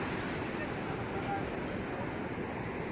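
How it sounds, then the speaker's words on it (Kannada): Big sea waves breaking on a Goa beach make a broad, continuous roar with wind buffeting the microphone, the surf rumbling steadily throughout. "ಭಾರಿ ದೊಡ್ಡ ದೊಡ್ಡ ಅಲೆಗಳ."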